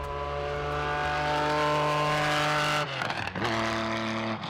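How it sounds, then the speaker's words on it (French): A Porsche 911 Group 4 rally car at the Legend Boucles de Bastogne rally holds a loud, steady engine note near the listener, then drops sharply as it shifts and pulls away with a revving roar. "la Porsche 911 groupe 4 de l'équipe Auguste Porsche Addiction, la voiture portée numéro 1"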